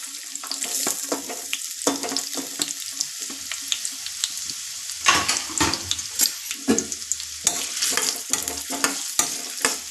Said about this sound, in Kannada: ಉಳ್ಳಾಗಡ್ಡಿ ಕಟ್ ಮಾಡಿದ್ದೀನಲ್ಲ, ಈ ಹದಕ್ಕೆ ಫ್ರೈ ಆಗಬೇಕು.